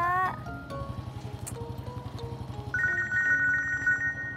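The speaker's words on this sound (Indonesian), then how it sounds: "saya terima telepon dulu boleh?" A phone rings for an incoming call with a close, repeating electronic ringtone. A chirping beep pattern starts partway through and grows louder toward the end.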